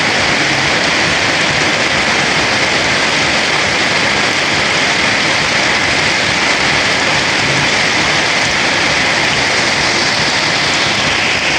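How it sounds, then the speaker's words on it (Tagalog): Heavy rain pours down in a loud, constant roar of dense hiss, with no break and no voices. "Kapit po lakas na ng ulan."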